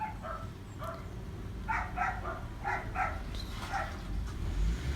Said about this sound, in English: Sorry guys for the dog barking.